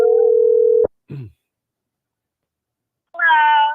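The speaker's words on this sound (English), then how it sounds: "Okay, it's ringing." Ringback tone on a telephone call: one steady, even tone lasting nearly a second, then a pause, a short noise and silence before a voice answers near the end.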